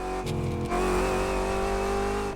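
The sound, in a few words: racing video game car revving with manual transmission whine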